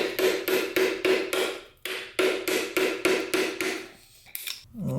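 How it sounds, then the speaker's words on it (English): A big flat-blade screwdriver is hammered to knock out a pinion seal on a Ford or Jeep Dana axle, giving a quick run of loud, evenly spaced metallic whacks, then a short pause and another burst of strikes. "I'm just going to be taking a big flat blade screwdriver and whacking"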